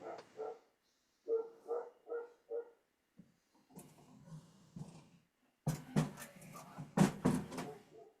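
A dog barks in quick groups of two to four yaps, fairly faint and with gaps between them, followed by a messier stretch of louder barking and knocking.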